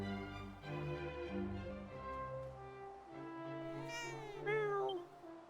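A cat meows repeatedly in a Dragon Quest VII Reimagined game scene, drawn-out tonal cries rising and bending in pitch, fairly prominent over a soft musical background.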